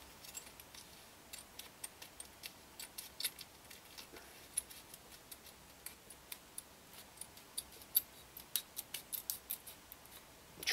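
Scissors snipping a paint stencil for a camouflage airsoft paint job, a run of faint, crisp close-up clicks and snips at an uneven pace over a quiet room background, no speech.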